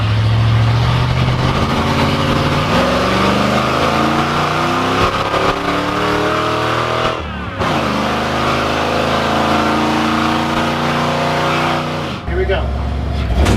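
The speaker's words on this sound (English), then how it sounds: "So we put electric cutouts in our V8 powered milk truck." The V8 engine of a milk truck with electric exhaust cutouts revs up through rising pitches, cuts off briefly, then climbs again with a rough, throaty exhaust roar close by.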